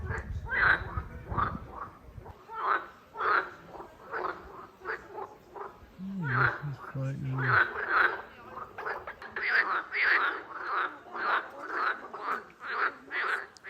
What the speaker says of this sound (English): there's like these frogs in here that are really loud